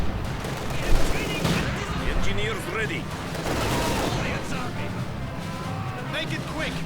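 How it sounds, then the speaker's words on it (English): An LMG-42 machine gun fires in Company of Heroes 2, with rattling bursts amid a dense wash of battlefield noise and scattered shots, fairly loud and continuous. "Grenadiers with what sounds like an LMG-42"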